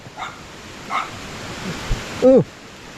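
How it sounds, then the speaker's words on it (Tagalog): A single short dog bark near the end, after a few faint yips, against a quiet background. "May aso, hindi daw nakakagat."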